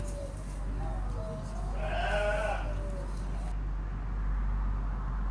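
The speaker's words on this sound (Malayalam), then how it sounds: "ഈ മേഖലയിൽ കുറേ വെറൈറ്റി ആടുകളുണ്ട്." Goats in a mixed-breed flock at Al Noman Zoo in Barka, Oman, give one clear bleat partway through, over a steady outdoor background hum.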